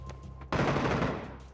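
Gunfire in PUBG on the Miramar desert map: a sudden dense burst of shots that cuts in after a moment of quieter background and then fades slowly, loud and without talk.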